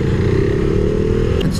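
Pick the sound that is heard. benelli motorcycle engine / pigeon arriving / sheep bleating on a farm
benelli motorcycle engine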